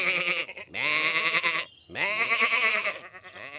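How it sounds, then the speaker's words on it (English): Cartoon sheep bleat loudly and close by in two long wavering calls separated by a brief gap, with a third trailing off, heard alone as the flock is being rounded up. "Tom and Riff had started to round up the sheep."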